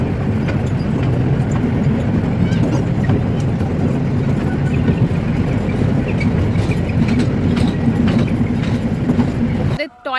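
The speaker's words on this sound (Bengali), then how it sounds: "ও মা আমাদের ট্রেন ছেড়ে দিয়েছে।" A toy train ride rolls along its rails, a loud, steady rumble with light rattling that carries on throughout and cuts off abruptly at the end, with voices faintly mixed in.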